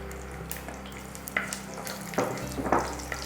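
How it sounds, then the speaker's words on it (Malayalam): Chopped shallots tipped into hot oil with popped mustard seeds for chundakkai thoran, giving a soft sizzle that swells around the middle with a few stirring clatters, close and fairly quiet. "അതിനകത്തോട്ട് നമ്മുടെ കൊച്ചുള്ളി അരിഞ്ഞത് ഇട്ട് കൊടുക്കാം"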